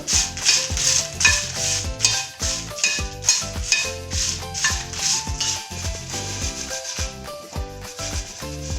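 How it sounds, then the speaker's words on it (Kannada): Byadgi chilies dry roasted in a pan without oil for citron pickle, heard as loud rhythmic scraping and rubbing strokes of a spatula against the pan, continuous and close, with no talking. "ಬ್ಯಾಡಿಗೆದು ಉಪ್ಪಿನಕಾಯಿಗೆ ಸ್ವಲ್ಪ ಚೆನ್ನಾಗಿ ಹುರ್ಕೊಳ್ಳೋಣ ಎಣ್ಣೆ ಹಾಕ್ಬಾರ್ದು"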